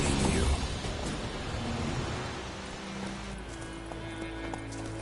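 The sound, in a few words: horse hooves, Geralt riding Roach in video game Witcher 3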